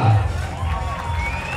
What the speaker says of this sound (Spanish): Un aplauso para toda la gente de Atutla